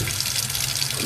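Water runs steadily from a tap into a broken, clogged kitchen sink that won't drain, a continuous close hiss and splash with no voices.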